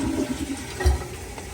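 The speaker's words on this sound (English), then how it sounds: "Alright guys, we're flushing." A toilet flushes just after a new wax ring has been fitted and silicone run around its base, giving a steady, close rush of water with a heavier surge partway through.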